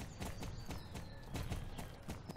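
Horse trotting in the Star Stable video game: a quick, even clip-clop of hooves, moderately close and fairly quiet, with no talking over it.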